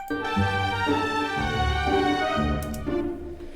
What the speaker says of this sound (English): so that's the solo clarinet